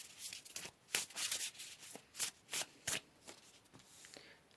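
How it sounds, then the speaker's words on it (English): Tarot cards being shuffled by hand, a close series of rhythmic riffling and rubbing bursts that rise and fall in quick succession, without talk. "let's go ahead here and pull some more cards"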